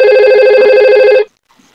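A simulated IP phone in a Cisco Packet Tracer network setup rings with a loud, steady electronic tone for about a second, then cuts off abruptly into near silence.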